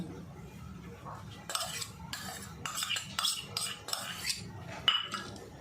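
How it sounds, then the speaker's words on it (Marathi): A spoon stirs Russian salad with mayonnaise in a bowl, giving bursts of wet clattering and scraping in an irregular rhythm, close and fairly quiet with no voices. "आता हे सगळं मिक्स करून घेते"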